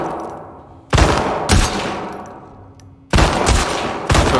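Four loud, separate bursts of gunfire from a shooting competition in The Last of Us Part 2, each sharp onset trailing off into a short echoing decay, with quiet gaps between them and no talking.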